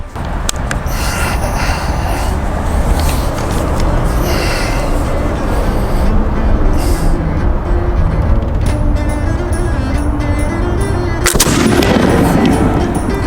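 Pedersoli Brown Bess flintlock musket firing at a target outdoors, a single loud booming report cutting through steady background noise near the end, with a sharp transient and broad rumble trailing off.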